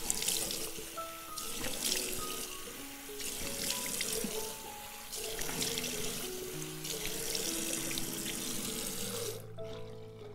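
Tap water runs steadily into a bathroom sink during face washing, a continuous bright splashing hiss with shifting gurgles and trickles throughout, cutting off abruptly near the end.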